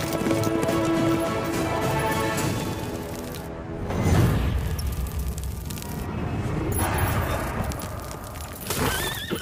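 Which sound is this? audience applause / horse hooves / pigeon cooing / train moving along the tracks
horse hooves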